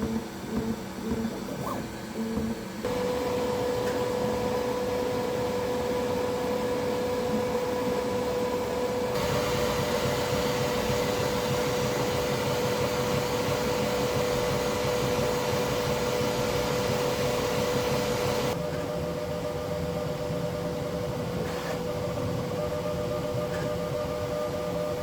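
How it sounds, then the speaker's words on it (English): A Bambu Lab P1S 3D printer runs loudly and alone, a steady whirring, humming motor drone with sustained tonal whines that shift partway through, holding close and constant for the whole stretch. "First, the printer is loud."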